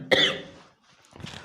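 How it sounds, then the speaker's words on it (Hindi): A single sharp, close cough followed by a brief pause and a softer second burst, like a throat clearing. "सॉरी देखिए खांसी आ रही है थोड़ी"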